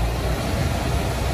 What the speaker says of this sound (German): Motor dreht sich ein bisschen.